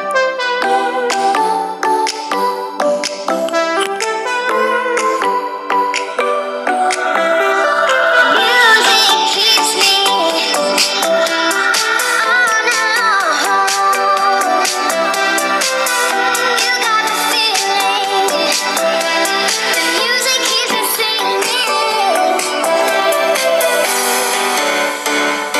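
Music plays loudly and continuously from a Xiaomi Mi A3 phone's loudspeaker, bright and thin with almost no bass, close up and without talk.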